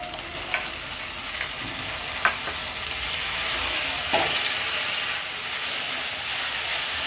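Ginger, garlic and cumin spice paste frying in a pan, a loud, steady hiss of oil with a few faint spatula scrapes early on, settling into an even sizzle.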